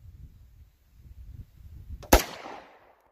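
A single sharp, loud gunshot from a heavy-recoil gun cracks close by, with a brief decaying tail, after low rumbling handling noise and quiet background movement.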